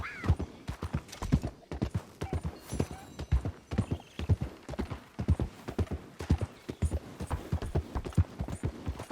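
Hooves clip-clop at a steady walking pace from a horse in the Red Dead Online video game, a regular rhythm of close, clear hoof strikes with a brief whinny and some background sounds.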